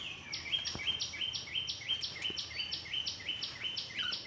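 A bird repeats a quick, steady chirp over and over in an even rhythm, soft and somewhat distant against a quiet background.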